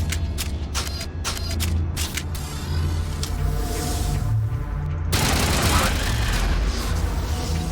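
Video game gunfire, a rapid volley of sharp shots early on, then a heavier burst of blasts later, loud and close, with a voice talking over parts of it.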